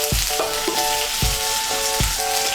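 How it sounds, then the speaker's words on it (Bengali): Green beans fry in oil for a Bengali shrimp dish, a loud continuous sizzle with regular metallic clanks and scrapes of a spatula against the pan, close up and with no talking. "শিমগুলোকেও আমি তেলের সঙ্গে মিশিয়ে নিয়ে একটু ভেজে নিয়েছি"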